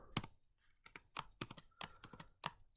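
Fingers tap quickly on a computer keyboard while a formula is entered in a spreadsheet, giving a close, irregular run of crisp clicks about eight strokes long in a quiet room.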